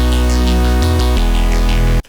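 Loud, steady synthesized simple major chords play in a progression with a deep bass line in music software, then cut off abruptly.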